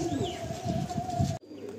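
Pigeons coo softly inside a wooden loft, a low steady murmur of calls with a faint chirp above before the sound cuts away abruptly near the end.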